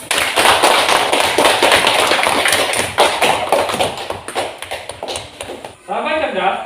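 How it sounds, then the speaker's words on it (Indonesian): A classroom group claps hands in a dense burst of applause, loud and close, with voices mixed in, before the clapping stops and a person starts talking. "Tepuk tangan buat kalian."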